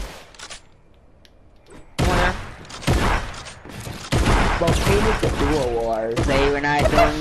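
Combat shotgun blasts fire in a video game, loud sharp bursts repeated several times amid excited overlapping voices talking and shouting.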